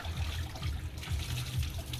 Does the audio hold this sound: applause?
no